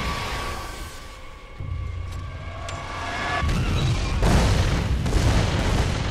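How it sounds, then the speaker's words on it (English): A mortar shell crashes through a roof in Gears of War, bringing deep rumbling booms that swell midway and stay heavy, with a faint siren-like game tone underneath. "Drop a mortar through the roof, Marcus!"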